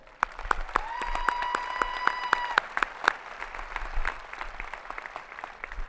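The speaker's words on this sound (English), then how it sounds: "Let's give them a round of applause." Applause at a 2018 high school graduation ceremony, a large indoor audience clapping steadily with sharp individual claps over a dense wash, while a bright electronic tone sounds briefly early on.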